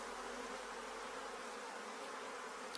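A honeybee swarm buzzes inside an opened hive during an inspection, a dense, continuous drone of many wings, steady and close with no pauses.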